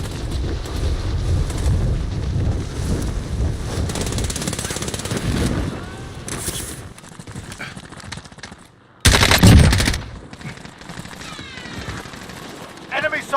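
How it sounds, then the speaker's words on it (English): Hostile automatic gunfire in the Warzone battle royale game, loud bursts of machine-gun fire rattling through most of the clip, with a sharp louder volley near the end, amid in-game voice callouts. "Receiving hostile fire."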